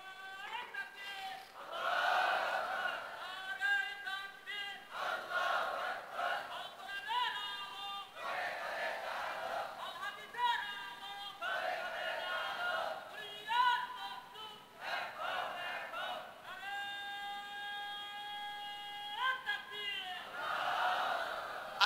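A crowd at a Bangla waz religious gathering chants the takbir, Allahu Akbar: many voices rise together in repeated sustained waves of chanting, loud and full, filling the space continuously.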